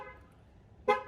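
A 2021 Cadillac XT5 sounds a single short, loud horn honk, set off by the key fob's panic button. The honk comes after a quiet moment of low background noise.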